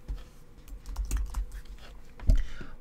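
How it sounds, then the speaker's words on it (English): Keys clatter on a computer keyboard as a password is typed in short irregular bursts, close and fairly quiet, with a slightly louder cluster of strokes near the end. "I'm going to type the password of my email."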